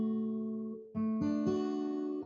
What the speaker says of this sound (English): I'll show you how it sounds on my guitar here